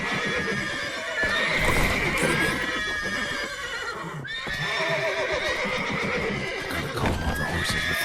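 Horses in Witcher 3: Wild Hunt neigh and whinny repeatedly, loud and close, with hoof clip-clop and stamping underneath throughout.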